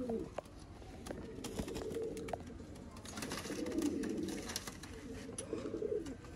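Sialkoti pigeons, many imported from Dubai, give soft throaty coos in a loft, several low rolling calls at moderate distance over a steady background hiss, with faint clicks and no talk.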